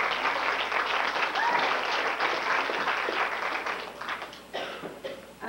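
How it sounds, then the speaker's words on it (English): A church congregation at an Assembly of God Christmas program applauds as Sister Beverly comes up, a dense, moderately distant patter of many hands that thins out near the end. "give her a hand clap as she comes tonight"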